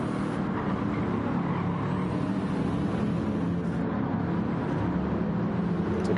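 Race car engines in a sim racing game, a GTE-class Alfa Romeo among them, hold a steady droning whine with a high pitched tone sliding up and down, continuous throughout and without talk.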